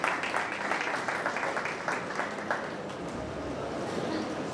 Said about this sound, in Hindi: जोरदार तालियां बजाएंगे ग्रुप नंबर सी के लिए